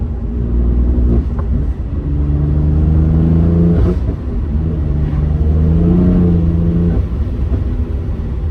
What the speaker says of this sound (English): with the manual, you get the burbles in between your gears